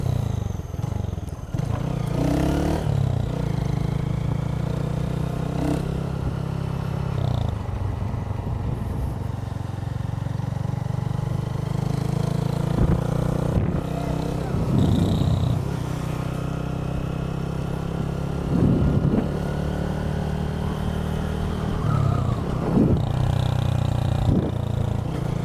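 A wheelie-style motorcycle with nearly worn-out brake pads and a stiff steering head being ridden, its engine a steady, close drone that holds for the whole stretch with brief rises and dips like gear changes.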